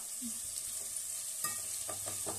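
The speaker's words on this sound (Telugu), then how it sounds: "ఆనియన్ ఫ్రై అవ్వాలి అలాగే చికెన్ కూడా ఫ్రై అవ్వాలి ఆయిల్లో" Onion and chicken frying in sunflower oil for a Bhimavaram-style chicken pulao, a soft steady hiss with a few spoon scrapes and taps near the end, fairly quiet and close.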